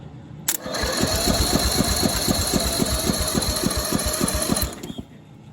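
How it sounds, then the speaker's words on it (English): A race mower engine cranks after its starter solenoid is jumped, a fast rhythmic chugging of about a dozen even compression strokes, loud and close, stopping abruptly after roughly four seconds. "We take this starter cable off and we jump the solenoid."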